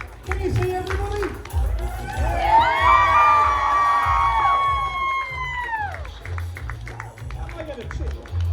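A crowd at a steampunk fashion show cheers and whoops loudly, many high voices rising together for several seconds, with shouting and talk around it.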